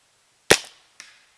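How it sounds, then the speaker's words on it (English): A single sharp crack from a rifle firing an Empire First Strike tracer round, loud and close, followed about half a second later by a fainter echo or distant impact. "Alright, I'll take my first shot here."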